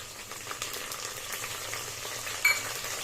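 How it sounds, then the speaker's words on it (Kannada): Coriander and green chillies fry on low flame for egg biryani, giving a soft, continuous sizzle with faint stirring scrapes and a short louder clink near the end. "ಹಾಕೊಂಡು ಚೆನ್ನಾಗಿ ಲೋ ಫ್ಲೇಮ್ ಇಟ್ಕೊಂಡು ಫ್ರೈ ಮಾಡಿ"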